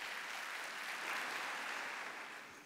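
An audience at a Turkish folk dance competition ceremony applauds as an official takes the stage, a faint, even wash of clapping from a distance that fades slightly at the end.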